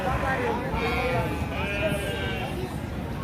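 Sheep bleat repeatedly amid the crowd at a busy livestock market, the cries mid-distance and mixed with steady chatter and background bustle.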